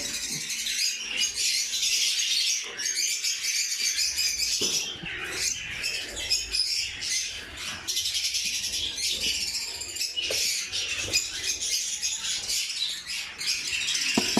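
Small nesting cage birds in a breeding nest give dense, continuous high chirps and twittering, fairly close and steady throughout, with faint shuffling underneath and no voices.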